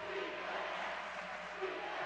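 Crowd in a college basketball arena keeps up a steady, broad roar of cheering and shouting, heard from a distance and continuing without a break.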